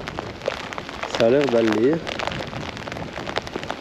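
Rain falling during a windy pike-fishing outing in France, a steady dense patter throughout, with someone speaking briefly over it.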